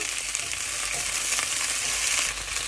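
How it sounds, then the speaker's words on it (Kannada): Large pieces of okra fry in oil in a pan, producing a dense, loud, continuous sizzle heard up close, with no talking. "ಬೆಂಡೆಕಾಯಿ ಹಾಕೋಬೇಕು ಈ ಥರ ಹುರ್ಕೋಬೇಕು ಎಣ್ಣೆಯಲ್ಲಿ"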